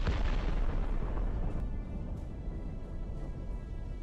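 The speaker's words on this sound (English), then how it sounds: "A hit by the Ukrainian FPV leads to an explosion that tears out and throws away part of the Russian" Explosion from a Ukrainian FPV drone striking a Russian tank, tearing away part of the hull: a loud, dense blast at the start that decays into a long, rumbling roar lasting several seconds, with no talk.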